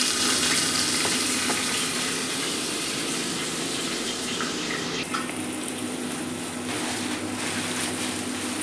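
Onions sizzle and crackle steadily in a hot pan for a vegetable palav, a dense continuous frying hiss that eases slightly partway through, with no voices.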